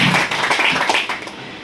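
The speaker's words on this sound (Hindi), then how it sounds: "एक बार खुद के लिए जोरदार ताली।" An audience claps at a seminar in Virar, Mumbai: a brief, dense burst of many hands clapping together that fades slightly toward the end.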